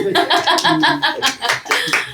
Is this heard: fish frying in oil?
no